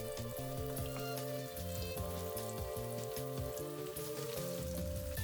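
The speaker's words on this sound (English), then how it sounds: "I'm going to fry the arancini for about 5 to" Oil crackles and sizzles steadily as arancini deep fry, with a low hum underneath; continuous, close, and fairly quiet.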